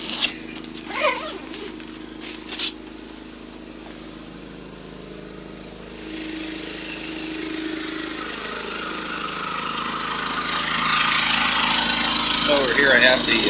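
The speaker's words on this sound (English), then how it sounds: "here I have the generator, and this is a Champion dual fuel. So I'm actually running propane down here" A Champion dual-fuel generator running on propane hums steadily in the background outdoors, its engine drone growing louder as the listener approaches, with a few brief knocks and rustles early on.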